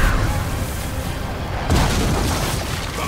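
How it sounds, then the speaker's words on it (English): Catapult fire in a Roman battle in Ryse: Son of Rome, heavy booming impacts and rumbling blasts, one sharp hit near the middle, amid continuous battle din. "Catapult fire!"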